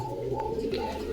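Soft pigeon cooing close by at a pigeon market, a low repeated murmur over steady background noise.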